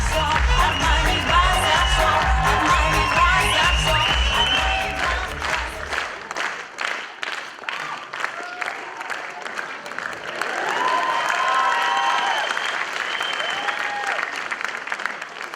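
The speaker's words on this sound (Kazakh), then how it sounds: "Енді сіздердің шапалақ қошеметтеріңізбен бүгінгі кеште менің ұлым Айқын Арманұлы ду шапалақпен қарсы алыңыздар." An audience at Arman Zhanaliev's 2019 solo comedy concert bursts into sustained applause, at first mixed with loud music, then continuing as dense clapping with some crowd noise for about fifteen seconds.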